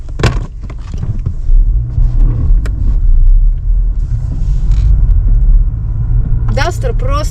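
A Renault Duster drives through a snowy forest, its engine and tyres giving a steady, loud rumble close by, with a few sharp knocks and scrapes from the rough track.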